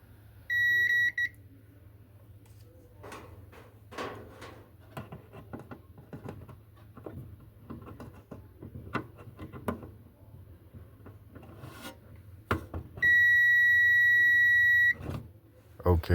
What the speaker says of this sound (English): I just pressed the start button to the dryer and it beeps